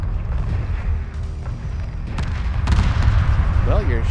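Ships fire weapons in a space battle in the video game Homeworld Remastered, with a steady barrage of booming, rumbling shots. A voice speaks briefly over the gunfire near the end.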